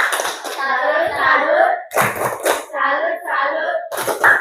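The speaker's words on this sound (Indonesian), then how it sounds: "Oke, berikan tepuk semangat dulu." A classroom group claps a quick rhythmic cheer pattern together, mixed with children chanting along, in short bursts with brief pauses.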